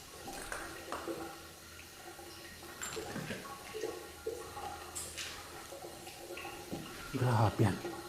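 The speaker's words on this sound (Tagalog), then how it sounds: "Pero may naririnig tayong gripo" Running tap water in an abandoned Olympic-size pool in the forest of Mt. Makiling, a steady hiss throughout with people talking over it.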